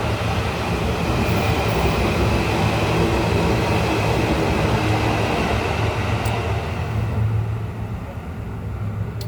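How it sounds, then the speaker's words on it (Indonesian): A train rolls past with a dense, steady rumble and rattle of rail cars, loud and close, easing off slightly near the end. "kereta"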